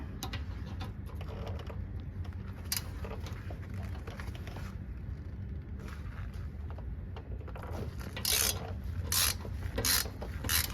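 Ratchet with an extension breaking loose 12mm bolts on the rear sway bar bushings of a Toyota Land Cruiser 100 Series, with steady clicking and scraping through most of the clip and louder bursts toward the end.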